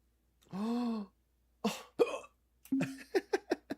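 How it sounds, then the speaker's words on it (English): Several sharp hiccups, close and fairly quiet, come in irregular bursts, one drawn out like a squeaky yelp, then a quicker run of small hiccups. "I've got the hiccups."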